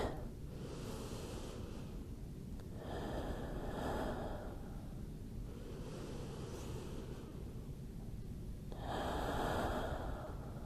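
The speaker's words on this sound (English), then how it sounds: "2 deep breaths here." Deep breathing during a Pilates mat exercise, faint slow inhales and exhales in a quiet room, with about three long breaths.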